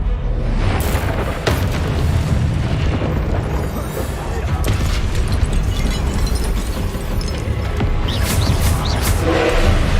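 Rapid spell combat in Hogwarts Legacy ends with a Confringo spell explosion, among continuous booming blasts, bursts and magical effects layered densely over each other.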